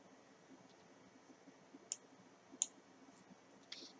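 A computer mouse clicks a few times, sharp and isolated, against a quiet room background with no talking.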